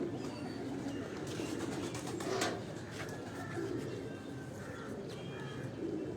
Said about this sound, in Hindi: गोल्डन कबूतर है जी अभी जी